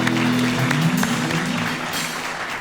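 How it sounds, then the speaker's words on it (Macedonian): Studio audience applause on a talk show, clapping spread across the room while a low musical tone sounds early and voices briefly overlap. "Хартија и и пластика, аплауз."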